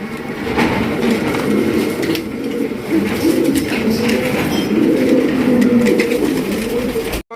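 Many pigeons of prized breeds for sale at a pigeon market coo in a dense, steady murmur throughout, close and loud, with no speech over them.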